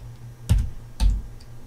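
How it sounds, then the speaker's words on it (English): Two distinct keystroke bursts on a computer keyboard, each a short thump with a bright click, spaced about half a second apart, fairly close and alone with no talking, while an IP address is entered for a Minecraft server. "I'm going to type my IP in here"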